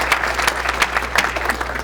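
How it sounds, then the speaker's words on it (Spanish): Audience applause welcoming a speaker at a computing science and technology conference, a steady patter of many hands clapping at moderate volume, alone without talk. "Un aplauso, por favor, bienvenido."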